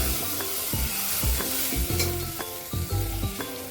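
Sprouted horse gram frying in a hot pan: steady sizzle under repeated scraping stirs and spoon knocks at an irregular rhythm, close up, with no one speaking.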